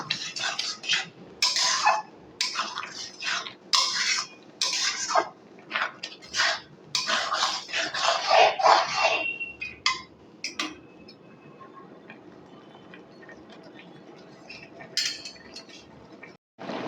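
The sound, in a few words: stirring grated carrot and coconut in a pan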